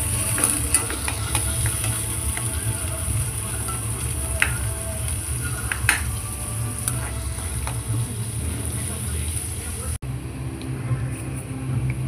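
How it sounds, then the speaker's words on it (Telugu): Finely chopped onions and green chillies fry in hot oil in a kadai, giving a steady, continuous sizzle that stays close and even for the whole stretch with a faint low hum underneath and no talking. "ఉల్లిపాయలు అయితే బాగా మగ్గుతున్నాయి"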